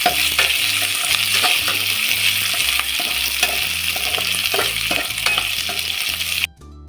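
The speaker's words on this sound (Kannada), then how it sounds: "ಇದನ್ನ ಕ್ಲೀನ್ ಆಗಿ ಫ್ರೈ ಮಾಡ್ಕೊಳ್ಳೋಣ." Onion and capsicum frying for paneer manchurian, a steady loud sizzle with rhythmic scraping and stirring strokes throughout, cutting off abruptly near the end.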